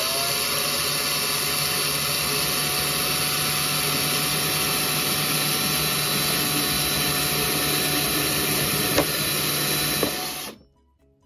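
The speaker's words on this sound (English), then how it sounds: "He said, let the drill do the work" A power drill boring through a plastic container makes a continuous high-pitched whirring for about ten seconds, with a couple of brief clicks, then winds down and stops.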